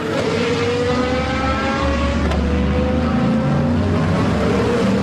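GT race cars, Corvettes and a Ferrari, roar past on the circuit at Paul Ricard, a dense continuous engine drone with rising and falling pitches as several cars pass, loud throughout with no pauses.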